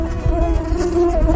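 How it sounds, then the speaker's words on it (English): A mosquito gives off a steady, thin, high-pitched whine that stays loud and close throughout, with no voices alongside. "Mosquito is a tiny insect that loves to buzz around and bite."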